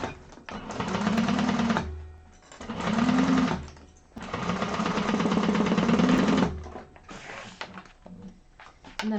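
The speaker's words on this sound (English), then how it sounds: "One side sewn, flip it over, do the other side." Sewing machine stitching the side seam of a bag in bursts of rapid mechanical chatter, several runs separated by short pauses, close and clear.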